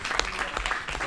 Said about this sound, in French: Allez, on applaudit, on a notre deuxième candidat